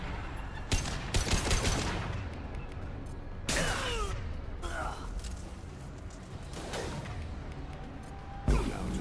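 Scattered SMG gunfire in a Mass Effect 2 firefight, several short sharp bursts with whooshing weapon effects between them, mid-level and spread across the scene alongside game audio.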